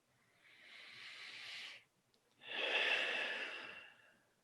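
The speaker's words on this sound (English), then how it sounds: "Take a couple of deep breaths." Two slow, deep breaths taken close to the microphone during a calm guided exercise, a long airy inhale-like hiss, a short pause, then a fuller, louder breath fading out in quiet surroundings.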